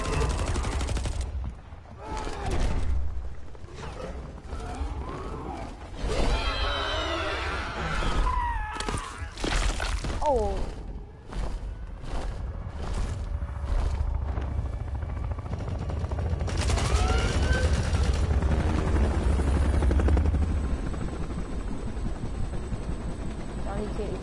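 Bursts of game gunfire in Mortal Kombat story mode, rapid volleys of shots mixed with engine drone and character dialogue throughout.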